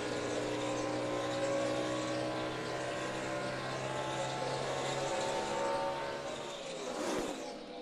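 NASCAR race cars roaring around Lowe's Motor Speedway during the 2007 Coca-Cola 600, a loud continuous engine drone with a steady hum and a car swelling past near the end.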